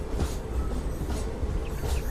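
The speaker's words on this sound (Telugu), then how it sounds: "వచ్చేసి ఓబులవారపల్లి నుంచి అయితే బయలుదేరిపోయింది" A Nandyal–Tirupati DEMU passenger train runs along, with a steady low rumble and faint periodic wheel thumps heard from inside.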